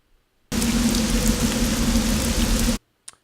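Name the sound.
looping exterior rain ambience sound effect for a game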